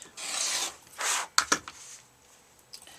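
Rotary cutter trimming the ends of quilt fabric strip sets along a ruler on a cutting board, heard as two close, rasping strokes followed by a few sharp taps and light handling sounds, no talking.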